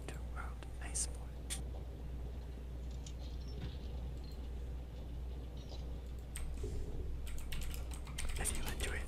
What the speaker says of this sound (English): Today we're gonna be listening to mechanical keyboard ASMR while we play Monster Hunter World Iceborne.